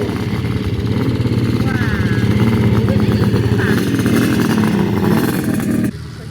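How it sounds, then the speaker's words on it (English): A 1974 Kawasaki motorcycle runs at a steam and country show, its engine a close, steady rumble with slight revs, and voices can be heard alongside before it cuts off near the end. "And then the Kawasaki there, that's a nice machine."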